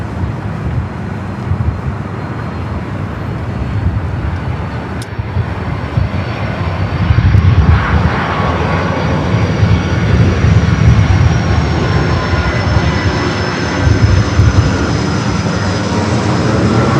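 A Southwest airliner lands on runway 24 right at LAX with a loud, sustained jet roar that swells midway as it passes near. A faint whine drifts through the roar, and no one speaks.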